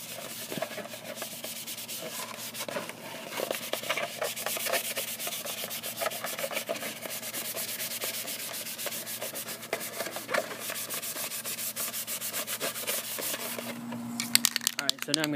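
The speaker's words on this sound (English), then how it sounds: "I'm gonna give it a quick buff with the Scotch-Brite pad just to rough up the surface a tad bit." A Scotch-Brite pad buffs a primed vacuform C-3PO head, a steady, continuous scratchy rubbing that stays at an even, close level throughout, with a brief shift near the end.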